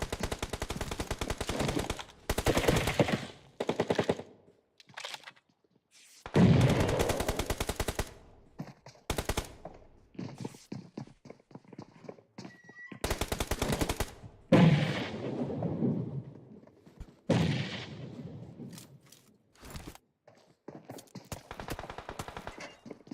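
Rapid bursts of automatic gunfire from a PUBG Mobile match at a pro league playoff, loud sustained volleys broken by short pauses and single shots, with no talk.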